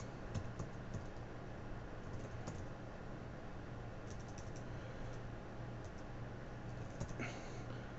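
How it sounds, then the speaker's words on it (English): Someone types a username on a computer keyboard. Soft, quick key clicks run steadily and faintly throughout with no other sounds. "You type in their username."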